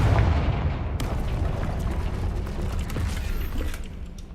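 The Confringo fire spell goes off in Hogwarts Legacy with a loud, booming burst at the start that settles into a rumbling, crackling decay with scattered sharp cracks.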